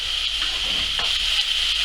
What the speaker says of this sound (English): we continue to cook these onions